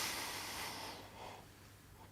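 A slow, close inhalation during a guided breathing exercise, a soft airy hiss that fades over about two seconds, followed by a brief faint click.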